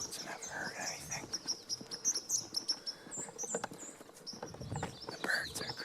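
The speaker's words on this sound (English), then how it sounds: "The birds are crazy this morning" Several birds chirp and call in spring morning woods during turkey hunting season in New Brunswick, with bright repeated high notes layered over rustling and light pattering nearby, moderately loud and continuous.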